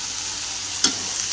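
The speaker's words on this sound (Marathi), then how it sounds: "पाव वांगे आणि 2 बटाटे घेतले. मस्त आता परतून घेऊ." Eggplant and potato sautéing in a pan give a steady low sizzle, with one brief stir or scrape partway through and no voices.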